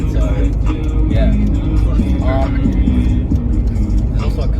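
A 20-year-old stock Jeep rumbles along the road with a low, steady engine and road drone, close and loud, while people talk over it intermittently.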